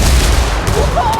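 Heavy indirect fire lands in the video game Ghost Recon Wildlands, producing a loud, close, sustained rumbling blast with a booming low end that rolls on throughout.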